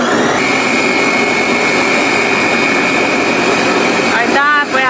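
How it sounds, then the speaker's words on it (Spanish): A kitchen blender whirs steadily while blending beans with green chili and celery, a loud continuous motor whine before a voice cuts in near the end. "mientras vamos a licuar los frijolitos, le vamos a echar chile verde y apio"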